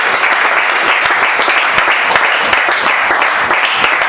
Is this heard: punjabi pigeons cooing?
no